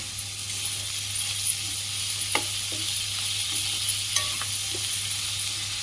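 A spatula stirs a spring onion stalk and egg fry in a pan, with scraping strokes and light clinks over a steady, bright sizzle and a low background hum.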